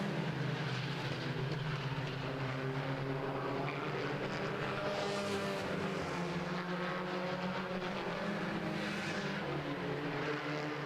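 Club race cars roar steadily around Madera Speedway, a dense continuous engine drone with passing swells as the field laps the oval; no talk heard.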